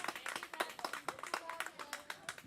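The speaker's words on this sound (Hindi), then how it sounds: "सभी शिक्षकों से इन बच्चों के लिए जोरदार तालियां" Scattered, uneven clapping from an audience at a school event, greeting children who performed; the claps are fairly quiet and thin, with no voices over them.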